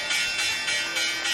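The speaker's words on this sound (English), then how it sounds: "There's the closing bell." A stock market closing bell rings in repeated bright strokes, steady and fairly faint, with no talk over it.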